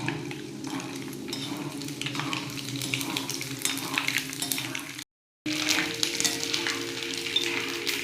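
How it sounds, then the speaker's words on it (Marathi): Nylon sago pearls deep-frying in hot oil over a low flame, a steady crackling sizzle with occasional stirring and utensil clinks, a brief cutout partway through. "असे मस्तपैकी तळून घ्यायचे, मोठे फुलतात ते"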